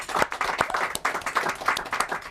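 Audience applause during a comedy-themed talk show interview, a short burst of brisk, irregular hand claps, moderately close and without talk over it.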